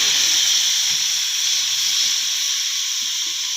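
Spices sizzling steadily in hot oil for Kovai-style rasam, a constant bright hiss close up that stays even and unbroken, with no talking over it.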